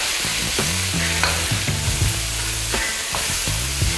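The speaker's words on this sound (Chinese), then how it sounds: "把这锅烧热，再来润锅，再开始炒牛肉和这番茄" Minced beef stir-fried in a hot, pre-seasoned wok for tomato beef noodle sauce, a steady loud sizzle broken by repeated scraping strokes of the spatula against the pan, close up with no voices.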